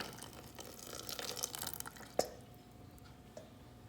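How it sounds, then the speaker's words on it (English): A small amount of water trickles and drips into tomato sauce in a pan while lasagna is being made. The sound is faint and close, with a few soft splashes and one brief sharper drip. "I am adding very little water."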